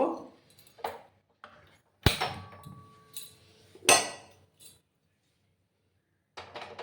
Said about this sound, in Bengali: একটা কড়াই আমি বসিয়ে দিলাম